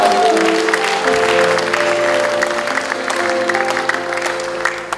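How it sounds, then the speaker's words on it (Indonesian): Audience applause at a church gathering, a dense, sustained round of clapping from a crowd that carries evenly through the whole stretch and eases slightly toward the end, with a faint tonal hum underneath. "beri tepuk tangan yang terbaik."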